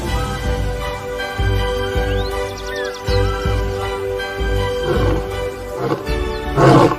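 A male lion roars in deep, rumbling bursts that swell and fade over several seconds, loud and fairly close, with outdoor ambience around it, in Zambia's Luangwa valley.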